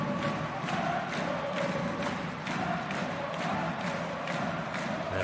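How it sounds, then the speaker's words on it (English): Ice hockey arena crowd at a Pinguins Bremerhaven versus TPS Turku match roars and cheers steadily, a dense wash of voices with rhythmic chant-like swells filling the rink. "And listen to that crowd."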